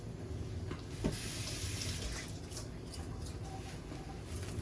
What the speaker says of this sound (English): Wash already, but me go ahead and wash them again.